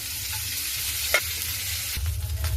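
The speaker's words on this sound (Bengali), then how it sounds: "ফ্রাই প্যানে কিছুটা পেঁয়াজ পাতা দিয়ে দিলাম" Onion leaves frying in oil in a frying pan give a continuous close sizzle, broken by a few sharp scrapes and knocks as they are stirred.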